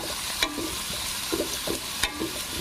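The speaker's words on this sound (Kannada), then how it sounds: "ಆನಿಯನ್ ಸ್ವಲ್ಪ ಲೈಟ್ ಬ್ರೌನ್ ಬರೋವರೆಗೂ ಫ್ರೈ ಮಾಡಿಕೊಂಡ್ರೆ ಸಾಕು" Onions frying in a pan, a constant close sizzle broken by light scraping stirs at an uneven rhythm, with no voices.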